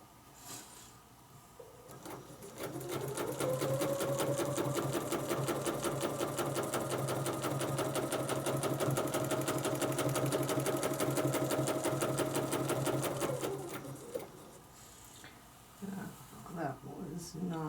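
Domestic sewing machine stitching along a ruler template for quilting, a fast steady rattling hum that runs for about ten seconds, then stops, with faint handling noise around it.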